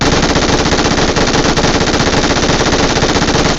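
An MG3 machine gun fires nonstop in a video game, a relentless rapid burst of loud, dense gunfire that never pauses for the whole stretch.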